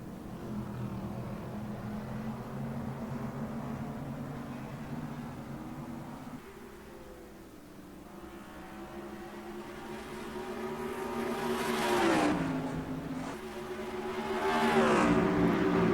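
A field of race cars rolling off at the green flag in NASCAR Racing 2003 at Watkins Glen, engines droning steadily in a layered hum that swells and rises in pitch as they accelerate.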